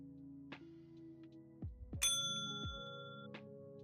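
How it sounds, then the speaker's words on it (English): A bell sound effect plays from a computer file, starting with a few soft dings and low thuds. One bright, ringing bell strike then decays slowly, with another faint ding after it, all quiet and close. "No, that's just a bell."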